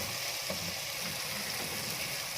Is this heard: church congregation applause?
no